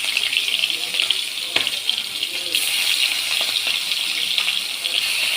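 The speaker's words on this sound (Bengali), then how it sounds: "এবার আমি মাছগুলো এক এক করে ভেজে নেব।" Fish fry in hot mustard oil with a steady, bright sizzle and scattered sharp crackles and pops, close and fairly loud throughout.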